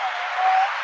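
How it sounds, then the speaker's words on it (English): Audience applause on a call-in talk show, a short burst of steady clapping, thin and band-limited like a recorded or canned cheer. "Let's give you a round of applause."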